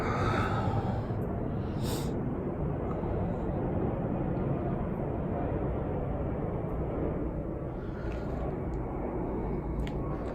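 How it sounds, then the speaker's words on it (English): A broad, steady jet roar from an airplane passing overhead dominates throughout, with a few faint clicks and breathy sounds close to the microphone. "I got an airplane going by."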